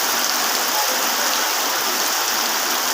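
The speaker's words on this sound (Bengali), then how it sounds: "আপনারা দেখতে পাচ্ছেন কি ভয়ঙ্কর রূপে বৃষ্টি হচ্ছে।" Heavy rain pours down steadily in daytime, a dense, loud hiss of drops hitting surfaces with no pauses, close and alone without voices.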